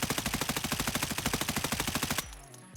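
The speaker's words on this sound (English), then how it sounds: "I'm going to go ahead and shoot up here." M4 rifle in the game Escape From Tarkov fired in one sustained fully automatic burst of about two seconds, rapid even shots at a steady rate, then the echo dies away, no voices.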